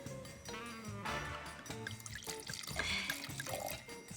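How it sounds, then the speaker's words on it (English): Red wine is poured into a glass at a blind tasting of Santa Barbara wines, making close, gurgling, trickling liquid sounds in a quiet room. "May I pour you first?"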